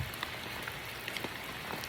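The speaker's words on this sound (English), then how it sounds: "It's raining, but" Steady rain patters on the ground during a rainy after-work walk with a husky puppy, a continuous close wash of drops with a few brighter splashes, no voices.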